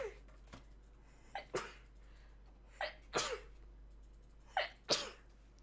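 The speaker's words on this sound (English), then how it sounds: "I'm about to sneeze" Quiet indoor scene, the setting a scrapbooking session, where a person gives two or three sharp, sudden sneezes, each one a short gasp followed by a burst, spaced a second or two apart against faint background hum.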